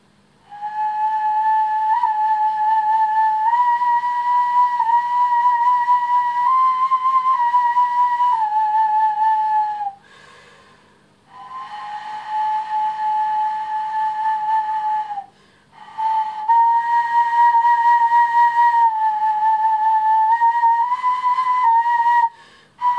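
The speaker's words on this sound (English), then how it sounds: "And you'll notice with the bone kōauau, it's a lot higher." A high, breathy bone kōauau flute plays three long sustained notes with slight pitch wavering, separated by short pauses, clear and close with nothing else around it.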